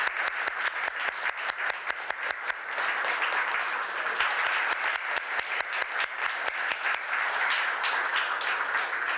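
A crowd applauds a guest at a 1982 September 16 celebration in San Jose, starting as rhythmic clapping and swelling into a dense, continuous roar of many hands.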